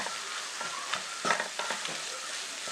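Bread pieces are stirred into sizzling masala with onions in a pan on a slow flame, giving a steady frying hiss with soft scraping stirs and occasional spatula knocks up close.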